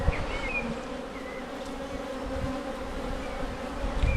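Honeybees buzz steadily around a hive that has just swarmed, a dense continuous drone close by with no talk.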